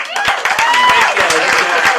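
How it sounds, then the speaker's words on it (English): At a Rascal Flatts CMA press conference, a room gives a round of applause: sharp, distinct claps close by with whoops and excited voices rising over them. "Let's give them a round of applause."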